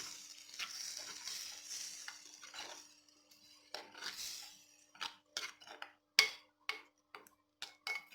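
Boiled jackfruit seeds with their leftover cooking water stirred together in a pan, a faint soft swishing that gives way to a series of distinct spoon taps and clicks against the pan.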